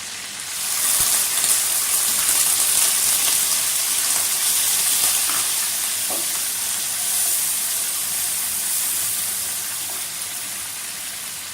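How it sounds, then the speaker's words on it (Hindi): Onions sizzling in ghee in a pan, a steady dense hiss with faint crackles throughout, close and continuous with no talking. "प्याज हमारा फ्राई होने लगा है।"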